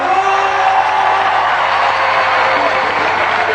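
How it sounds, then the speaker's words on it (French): A loud, continuous roar of an audience cheering and applauding a choir, dense crowd noise with whoops and shouts blending into a sustained wash. "qu'on peut applaudir très très fort"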